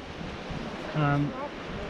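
Ocean surf washes against a rocky coast below forested cliffs on the Juan de Fuca Trail, a soft continuous roar with wind buffeting the microphone and a brief voice in the middle.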